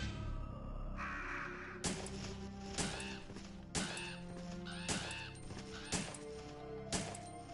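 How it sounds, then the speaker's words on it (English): Crows caw repeatedly in the Resident Evil 3 Nemesis game, about six loud, sharp calls spaced roughly a second apart over a steady droning ambient background. "Don't want to deal with crows and Nemesis at the same time."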